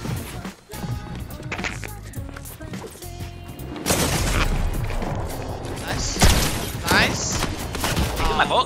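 Rapid bursts of gunfire in the Fortnite video game, loud and dense over constant game noise, with occasional players' voices mixed in.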